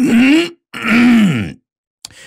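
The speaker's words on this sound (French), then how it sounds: "le notaire se racle la gorge avant de poursuivre" Two drawn-out, guttural throat-clearing rasps from a single voice, close and loud, separated by a short pause, then a brief clipped sound at the end.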